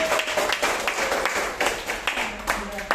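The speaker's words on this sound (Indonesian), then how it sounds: "Boleh tepuk tangan?" Audience clapping at an Indonesian business seminar, a scattered burst of hand claps from a room of people, moderately close, mixed with voices talking over it.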